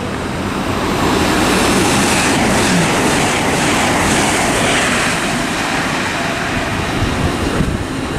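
A train rumbles past nearby through Stevenage station on the East Coast Main Line, a loud, sustained roar with rattling wheels on track that stays constant for several seconds.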